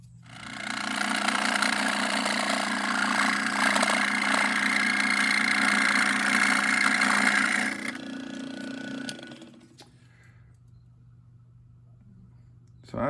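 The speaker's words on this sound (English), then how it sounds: "I'm just going to take it over to my scroll saw and just cut that straight" A scroll saw cuts a cedar strip for a kayak build with a steady, close, reciprocating buzz holding for about seven seconds, then tapering off as the blade stops.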